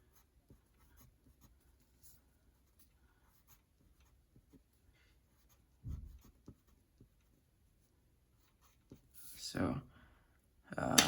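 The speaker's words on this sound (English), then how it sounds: "I'm gonna use my 4B pencil." A 4B graphite pencil scratches across paper while sketching teeth on a Spinosaurus drawing, with faint, sparse strokes at first and then several louder, brisker scribbling bursts near the end.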